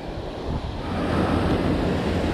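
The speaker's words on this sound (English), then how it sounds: "Man, it's windy." Strong wind buffets the microphone beside Delaware tidal waters during a storm, a dense continuous roar with surf-like rushing that swells slightly partway through.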